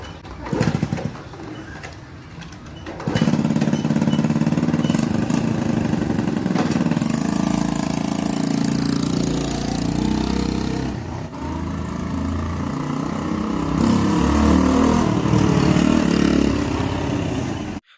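A 28-year-old restored motorcycle has its engine started for a test drive and runs with a steady, loud close idle, with bird cooing audible near the start.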